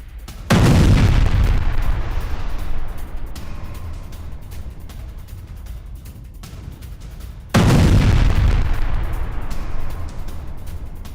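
Explosives set off against a Pakistani army military post in the Wana area, Khyber Pakhtunkhwa: two heavy, booming blasts several seconds apart, each with a sudden loud onset and a long rumbling, crackling decay, with no talk.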